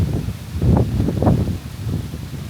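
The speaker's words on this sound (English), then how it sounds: "The wind is really picking up around here." Gusts of wind rustle through leaves on a Panama island in soft swelling waves, a low rushing sound rising and falling without speech.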